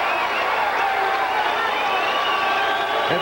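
A boxing arena crowd during the Vinny Pazienza vs. Tocker Pudwill bout roars and applauds in a dense, unbroken wash of cheering that holds steady throughout, with a commentator's voice faintly mixed in.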